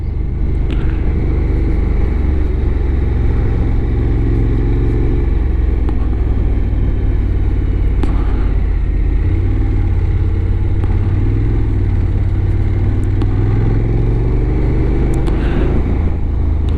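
A Honda NC750X motorcycle rides along an open road in Gran Canaria, its engine a loud, steady low rumble that continues without a break, with wind noise layered over it.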